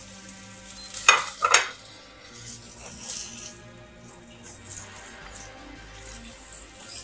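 Onions frying in hot oil, with soft sizzling under stirring and a few sharp utensil scrapes and clatters against the pan, close and fairly quiet with no talking.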